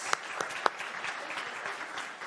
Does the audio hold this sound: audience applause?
yes